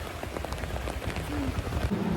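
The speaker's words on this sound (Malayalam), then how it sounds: "ഞങ്ങൾ കരയോഗത്തിലോട്ട് നടക്കുന്നതിൻ്റെ ഇടയ്ക്ക് തന്നെ നല്ല മഴ പെയ്തു." Steady rain falling on and around an umbrella during a walk, a dense close patter with low rumble throughout, no voices.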